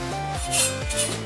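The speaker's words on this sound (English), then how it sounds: "So I'm gonna start bending the roll cage up." A JD2 tubing bender from JD Squared works roll cage tubing, giving metallic groaning and rubbing creaks with shifting pitch, close and fairly loud, in short strained sweeps.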